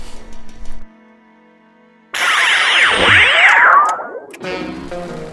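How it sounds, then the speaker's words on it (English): A chainsaw revving in a horror film soundtrack, a loud harsh whining burst of roughly two seconds with sweeping pitch, set between quieter tonal music passages. "I can hear a chainsaw, dude."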